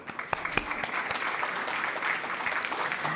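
Steady, full applause from a summit audience, a few sharp individual claps at the start before the crowd settles into a continuous, moderately loud wash of clapping.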